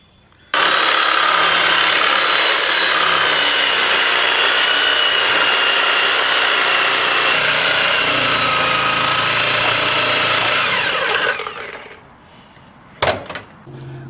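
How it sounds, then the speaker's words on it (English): A reciprocating saw cuts through rusted-solid cab mount bolts on a Ford Ranger chassis, a loud, continuous high-pitched buzzing rasp for about eleven seconds before it winds down and stops, followed by a brief clank. "Had to sawzall through the bolts because they were rusted solid."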